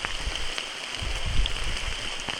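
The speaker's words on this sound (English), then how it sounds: "It's raining." Rain falls on the Appalachian Trail, a steady hiss of drops with scattered low thumps, fairly close and continuous with no voices.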